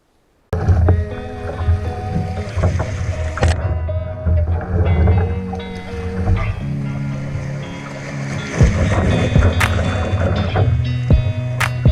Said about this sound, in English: I'm packed up, about to head to the canoe, and we're gonna head downstream.